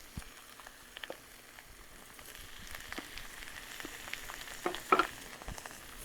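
Thick slices of pre-cooked steak go into a hot pan for drunken noodles and set off a soft, steady sizzle, with a few sharper crackles and pops near the end. No one speaks.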